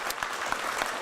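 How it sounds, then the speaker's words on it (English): Brief burst of audience applause at a press conference for a housing initiative, steady clapping from a crowd. "Let's give all these great partners a big round of applause today."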